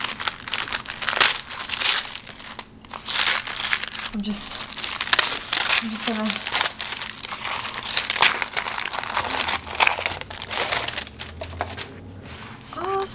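Wrapping paper crinkles and rustles while a parcel of stickers and small products is unpacked, with bursts of crumpling and tearing throughout, heard close and mostly under a woman's chatter.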